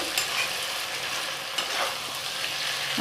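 Local country chicken curry fries and sizzles steadily in a pan, with a constant crackling hiss and a few sharper stirring scrapes, close and moderately loud, with no talking.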